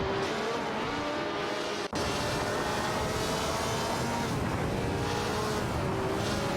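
Video game racing cars, a Honda 300 and a Cooper T81B, roar with steady engine drone and tire noise, a continuous loud blend of motors throughout with one brief dropout.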